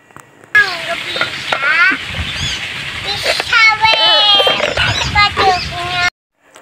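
Cassava leaf and galangal shoot filling simmers in coconut milk while being stirred slowly, a close bubbling sizzle under chirping birds and voices of children and an adult talking nearby.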